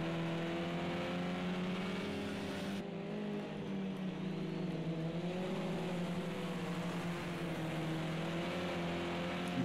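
BMW touring race cars at Sonoma in Project CARS 2, engines droning loud and continuous, with pitch rising and falling through gear changes as the cars run close together.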